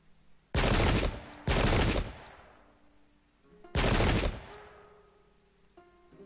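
Three loud crackling musket volleys ring out in a Pike and Shot English Civil War battle, the first two close together and the third after a pause, each fading into rolling echo.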